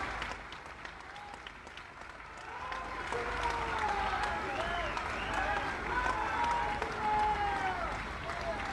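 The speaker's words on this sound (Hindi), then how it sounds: "सब लोग लगातार 1 मिनट तक ताली बजा करके पूज्य महाराज जी का गोरखपुर में स्वागत करिए" A large crowd applauds continuously to welcome a revered guest at a ghat inauguration in Gorakhpur, dense clapping swelling louder after a few seconds, with voices and whistles rising over it.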